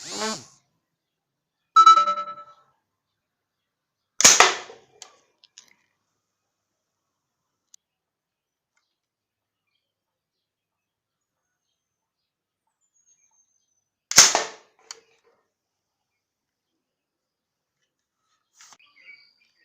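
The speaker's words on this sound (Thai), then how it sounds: "ถ้ายิงกระป๋องนี่โดนก็คงยิงนกยิงหนูโดนแล้วครับ" Air rifle shots, from 8 mm and 16 mm rifles, fired at a powder tin can 18 to 19 metres away: a few sharp, isolated cracks separated by long silent gaps, close and loud.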